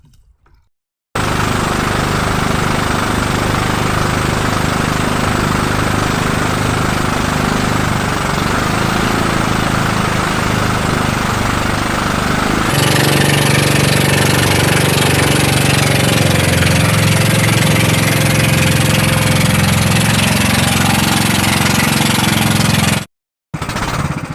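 A fishing boat engine runs loud and steady at close range throughout, its pitch shifting partway through as it revs, then cuts out briefly near the end.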